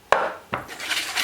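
Two sharp clinks of a whisk against a bowl while ingredients for ghriba cookies are mixed, followed by softer scraping and stirring, close and with no voices.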